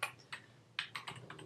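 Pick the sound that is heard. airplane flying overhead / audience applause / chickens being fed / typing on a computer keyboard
typing on a computer keyboard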